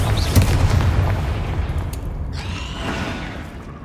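The Confringo fire spell explodes in the Hogwarts Legacy video game, heard as a loud, sustained booming rumble with scattered crackling bursts across the clip.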